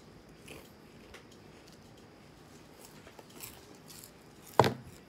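Someone crunching on chips: one short, sharp close-up bite near the end over a quiet background, with faint rustles earlier.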